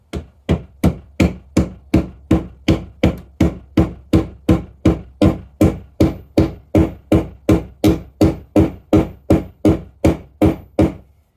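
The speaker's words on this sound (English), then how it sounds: "So now I will start driving the wedge" A steady series of about thirty sharp, loud hammer blows drives a wedge into the handle of a 3 lb axe head, evenly spaced and close, with no talk.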